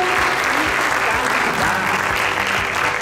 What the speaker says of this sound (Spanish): Ayúdenme a darle un fuerte aplauso a los preferidos de las categorías de software, periféricos, componentes y mayoristas